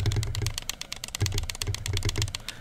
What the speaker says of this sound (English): Just listen to the button clicking.